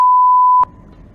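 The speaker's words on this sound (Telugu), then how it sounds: "అందులో మేము కొన్ని పదాలను వినిపించలేక బీప్ వేశాం" A loud, steady censor beep tone holds for a little over half a second, then cuts off sharply into quiet background noise.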